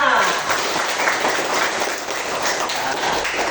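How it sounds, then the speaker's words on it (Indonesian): A classroom full of people clapping together, a dense, steady patter of applause that carries on evenly throughout. "Tepuk tangan untuk kita semua"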